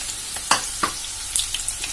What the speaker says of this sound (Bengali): তাকে নেড়ে চেড়ে নিতে থাকবো।